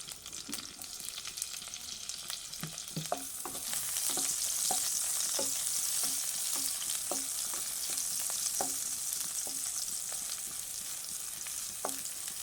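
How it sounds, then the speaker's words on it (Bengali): Chopped onions hit hot oil for pilau rice and sizzle steadily up close. Repeated spatula scrapes and stirring knocks sound over the frying, and no one speaks. "দেখুন তেলটা গরম হয়ে গেছে। এবার এর মধ্যে দিয়ে দেবো পেঁয়াজ কুচি।"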